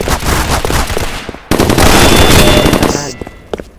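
Submachine gun fire in a video game, loud rapid bursts that fill the clip, a short burst then a sustained stream of shots after a brief break, ending in a few scattered shots.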